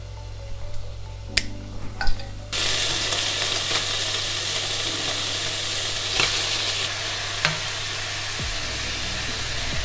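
Ginger slices, star anise and cinnamon go into a pan of hot cooking oil, a few clicks giving way to a sudden loud, steady sizzle that holds with occasional stirring taps, with no talk.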